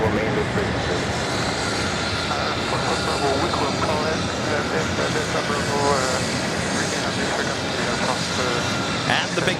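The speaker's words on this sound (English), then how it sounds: "And the big Q, Qatar Airways," Qatar Airways Boeing 777-300ER jet airliner at JFK, a steady loud broadband engine roar holding constant throughout, with talk over it.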